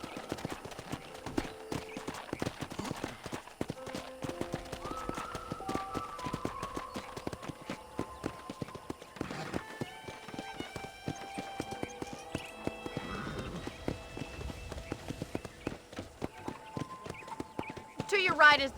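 Steady clip-clop of horse hooves at a brisk pace in the video game Red Dead Redemption, with music playing and a voice talking over it.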